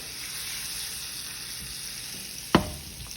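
Salted butter sizzles steadily in a cast iron skillet, a soft continuous frying hiss with a brief sharp clatter near the end.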